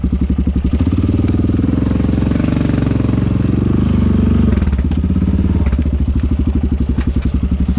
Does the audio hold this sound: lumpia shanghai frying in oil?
no